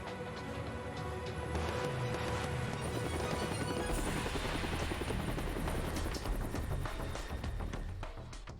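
Helicopter rotor wash in Yakuza 4 roars steadily and loudly, a dense chopping whir with rapid beating pulses that fills the scene without pause.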